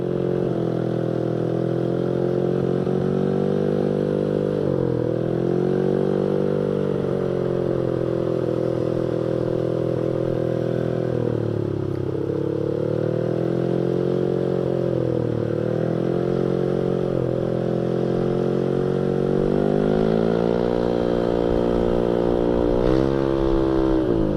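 A Honda Vario motorcycle being ridden, its engine running continuously and droning loudly throughout, rising and falling in pitch as the throttle opens and eases, with no voices over it.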